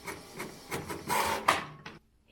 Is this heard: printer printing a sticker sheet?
yes